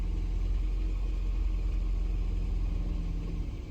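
A Toyota Prius engine, recently revived with battery charging, runs steadily with a low, dense rumble as the gas pedal is pressed, holding a constant loud drone that eases slightly at the end.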